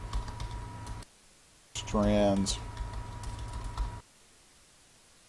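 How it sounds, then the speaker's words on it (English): Rapid keystrokes on a computer keyboard clatter in short bursts under a voice, a soft close patter that stops and starts with his speech. "See why I hate typing?"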